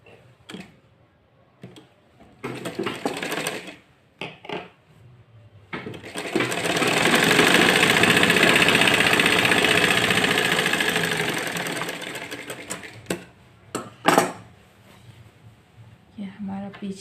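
Sewing machine stitching kurti fabric panels, with one long steady whirring run in the middle and short bursts before and after, close and fairly loud, with a voice talking in the gaps.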